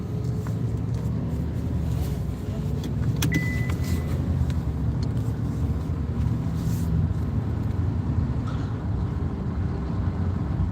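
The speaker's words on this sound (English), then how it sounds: "Well, we'll do a little more driving." A car drives along steadily, a constant low road and engine rumble heard from inside, with a few faint clicks and rattles in the cabin.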